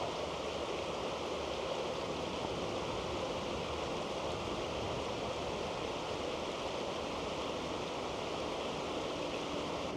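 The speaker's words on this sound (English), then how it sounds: "Nice picturesque view of the stream." A flowing stream on an icy winter hiking trail among rhododendrons and hemlock, a steady broad rushing wash of water that stays constant and fairly close throughout, with no voices.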